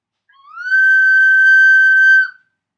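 A recorder blown gently gives one sustained, steady high-pitched whistle-like tone lasting about two seconds, clear and loud in otherwise silent surroundings.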